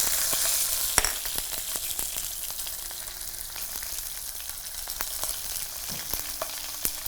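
Green chillies and onion sizzling in a pan, a steady low crackle with occasional stirring taps and scrapes, fairly quiet and with no voices.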